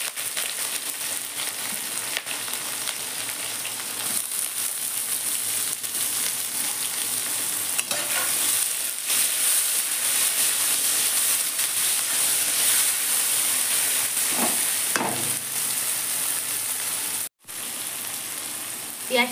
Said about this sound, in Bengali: পেঁয়াজটা ভাজা হয়েছে